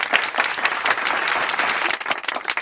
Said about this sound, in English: Can we clap for the rabbit just one more time?